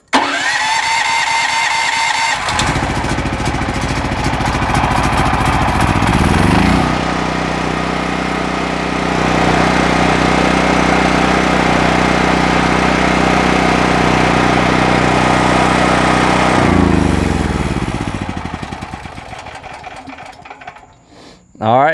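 A WEN 11000-watt dual-fuel portable generator running on propane, starting with a revving surge from the choke, then settling into a steady loud engine drone before winding down near the end.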